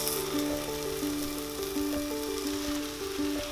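Boiled eggs dropped into sizzling masala in a pan for egg keema, a close, fairly quiet frying crackle with a steady tonal hum running underneath.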